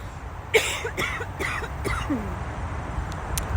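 A series of short, raspy coughs and throat clearing close to the microphone, spaced a few times over a quiet background hum.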